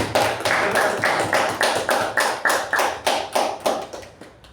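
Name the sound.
audience applause for the speakers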